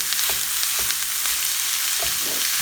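Chili meat sizzles loudly in a hot pan while a wooden spoon stirs it, with a few soft knocks and scrapes over the steady frying hiss.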